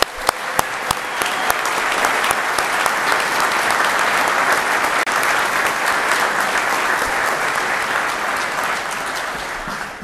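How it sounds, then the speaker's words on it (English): A large audience at a military annual awards ceremony applauds nominees and winners, a dense, steady round of clapping that holds loud and even for the full length, with a few sharper claps standing out at the start. "please give all of our nominees and winners another round of applause"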